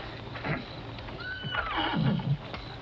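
A horse lets out a whinny, a wavering high neigh that drops in pitch, heard from nearby over low background noise.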